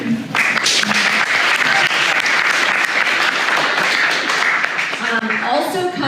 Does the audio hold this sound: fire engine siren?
no